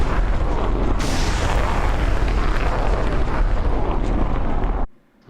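Missile launch in a Patriot SAM simulation game, a loud sustained roaring rush of rocket exhaust that holds steady for several seconds before cutting off abruptly.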